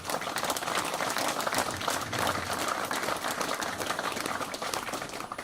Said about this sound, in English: I really wish I could ask you to give a huge round of applause to the entire team of the Mineral Resources Department